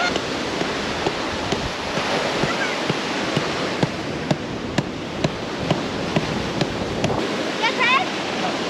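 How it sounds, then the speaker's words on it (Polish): Strong wind off the sea at Dziwnówek on the Polish coast roars steadily across the microphone with a surf-like rumble, constant and loud, with brief gusty peaks. "Wieje od morza."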